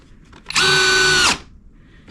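A Skil 12 volt cordless drill spins up to its highest speed setting, a loud, steady high-pitched whine held for under a second before winding down, followed by a brief click.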